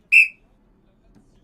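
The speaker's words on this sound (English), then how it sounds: "there will be a whistle from the referee" A referee's whistle sounds once, short and sharp, at a Roma versus Lazio football match, then the clip falls nearly silent.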